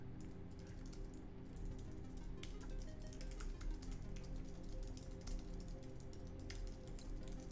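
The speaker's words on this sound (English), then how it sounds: "typing something" Rapid clicking keystrokes on a computer keyboard pattering steadily over a low background hum, close and fairly quiet, without talking.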